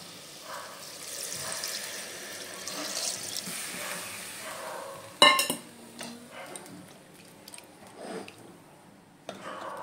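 Water is poured into a pot of browned, fried mutton for biryani, making a soft, steady splashing and trickling with a brief sharper clatter midway, fairly close and alone.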